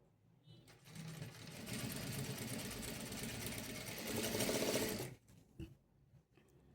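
A sewing machine stitches a dart blouse in one quick continuous run of a few seconds, a close whirring rattle that halts abruptly, followed by faint clicks.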